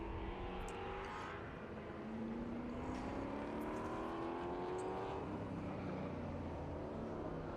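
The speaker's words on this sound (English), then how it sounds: "Bob Baer's Rover V8 powered MGB." A Rover V8-powered MGB race car runs at a historic sprint event, its engine note droning steadily and rising and falling through gear changes, heard from a moderate distance.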